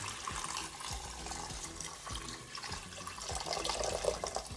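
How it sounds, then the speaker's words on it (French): Water poured over rice in a Cookeo multicooker makes a continuous close splashing, gurgling flow, with small bumps and clatters from the pot as it fills. "ce que je vais faire, je vais rajouter l'eau"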